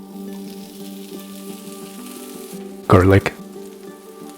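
Green onions and garlic sauteing in chili oil for a Chinese-style dish make a steady, close sizzle and crackle throughout, with a faint hum underneath and a brief spoken word partway through.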